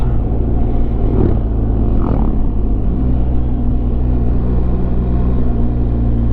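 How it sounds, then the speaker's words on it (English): A loud, constant low engine rumble fills the clip, with a brief whoosh as a Harley-Davidson motorcycle rides past on a Sunday morning road, heard from another motorcycle, a BMW R 1250 GS. "That was a Harley"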